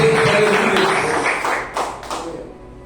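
A church congregation claps for Jesus, a loud close burst of many hands that fades over a few seconds into scattered final claps.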